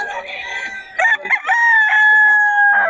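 A Sweater Gilmore gamefowl rooster crows loudly and close, a strained cock-a-doodle-doo rising into a long sustained note, preceded by a brief cluck, with no talk.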